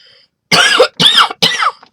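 Three harsh, close coughs in quick succession from a person, each a short loud burst with a brief pause between.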